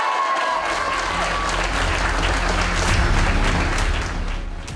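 Crowd applauding a podium at a hill-climb motor race, steady dense clapping with some cheering that swells slightly midway and fades a little at the end.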